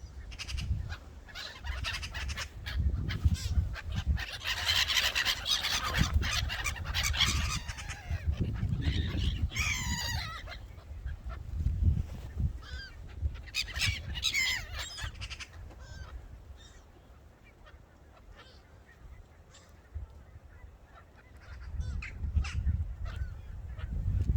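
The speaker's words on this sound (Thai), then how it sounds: "ห่านกำลังมานะคะ ทุกคน" Geese honk repeatedly over a steady outdoor rumble of wind, the calls loud at first and then scattered and fainter toward the end.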